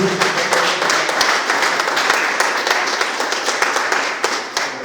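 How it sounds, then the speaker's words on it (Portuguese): A church congregation claps and applauds steadily for several seconds, a dense wash of hand claps filling the room without pause. "Uma salva de palmas para o Senhor em nome de Jesus."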